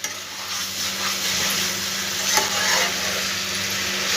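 A fish head and bitter gourd leaves are stirred in a pan over a high gas flame, producing a loud continuous sizzle with scraping spatula strokes and a low steady hum beneath, with no voices.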